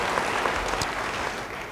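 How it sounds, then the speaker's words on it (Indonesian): Applause from a church congregation during a sermon, a steady dense wash of many hands clapping throughout, with no talking over it. "Beri tepuk tangan bagi dia."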